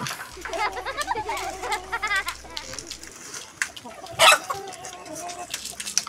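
A chicken clucking in a string of short, uneven calls at moderate distance, mixed with other farmyard calls and a quiet background.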